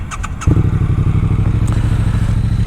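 A Triumph Street Twin's 900cc engine fires up after a few short clicks and settles into a loud, close, evenly pulsing thumping idle.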